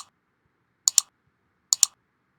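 Two pairs of sharp mouse clicks, each a quick double tap, sound close and crisp against near silence as a QuickSight email's view link is clicked.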